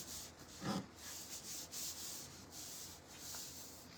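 Hand rubbing or sanding of material on a handmade DIY storyteller's chair with bookshelf sides, a soft, close, continuous scraping with a louder stroke near the start, alone without talk.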